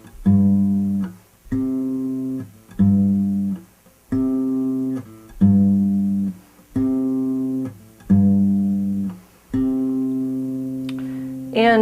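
Bossa nova picking on an acoustic guitar, with the bass alternating between notes under a ringing chord in a steady, even rhythm of about eight close plucks, and a faint voice coming in at the very end.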